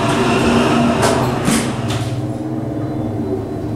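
A Montgomery elevator motor in a shopping mall runs badly, a loud, rough rumbling drone with a pulsing, uneven texture and a few brief rattling surges, heard close and steady throughout.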